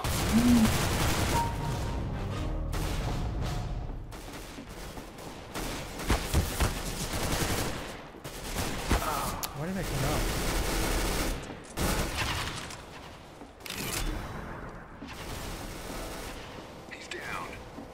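Loud, repeated gunfire in the video game CS:GO, rapid shots and bursts throughout a tense match, mixed with a player talking over it.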